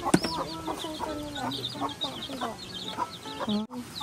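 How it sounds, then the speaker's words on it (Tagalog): Chickens cluck in a busy, overlapping stream of short calls, with a sharp squawk near the start and faint voices in the background. "Nakakatuwa mga manok."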